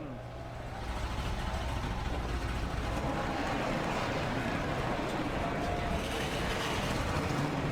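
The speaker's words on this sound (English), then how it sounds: "The engines are fired, the pace cars rolling off" Engines of a field of 34 amateur stock race cars fire up together at the start of the Hooters 150, a steady, dense rumble filling the track after a quieter first second.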